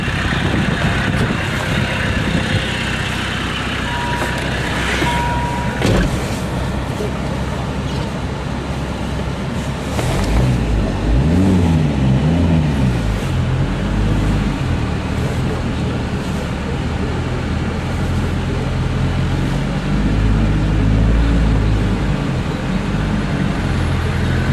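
A diesel-powered vehicle rumbles loudly and steadily up close as it pushes a Honda along, its engine note rising and falling, with a voice talking over the din.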